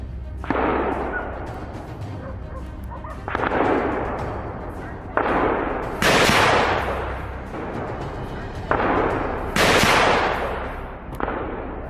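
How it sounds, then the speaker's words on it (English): A rifle is fired at a wild boar in dense woods, repeated loud cracking blasts, about six of them, each followed by a long rolling echo that fades before the next. "A shot cracked through the air, and in a flash, the boar lay still"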